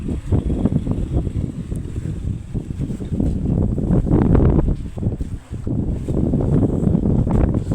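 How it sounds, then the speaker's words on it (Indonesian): Very strong wind rushes over the Godean post on Mount Wilis in Loceret, a loud, unbroken low roar of gusts hitting the microphone with rising and falling surges and no voices. "Wah, anginnya benar-benar kencang banget"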